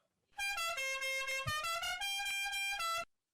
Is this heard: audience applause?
no